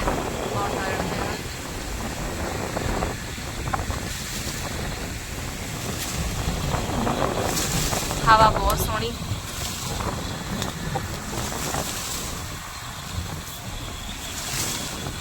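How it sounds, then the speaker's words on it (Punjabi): Wind blows across open farm fields, buffeting the microphone in gusty, rushing waves that swell and fade, with muffled voices mixed in. "ਹਵਾ ਬਹੁਤ ਸੋਹਣੀ ਚੱਲ ਰਹੀ ਹੈ ਜੀ ਖੇਤਾਂ ਦੇ ਵਿੱਚ"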